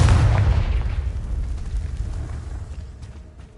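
A Confringo blast spell explodes in the video game Hogwarts Legacy, a loud booming burst at the start that rumbles and decays over a few seconds.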